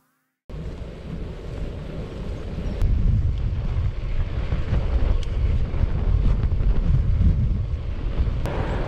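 Strong headwind roars and buffets steadily during an ultra-distance cycling ride in western France, rumbling low and growing louder after a few seconds, with occasional sharp knocks.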